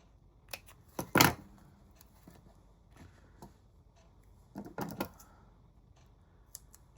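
Scissors snip a small piece of paper for a handmade Christmas card, making a few sharp close cuts in two short bursts separated by quiet handling.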